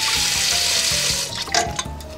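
Tap water runs steadily into a kitchen sink while brined corned beef is rinsed, a loud close gush that shifts to splashing and trickling as the flow is disturbed.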